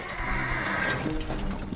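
A horse neighs, a drawn-out whinny heard clearly over a rumbling background for under two seconds.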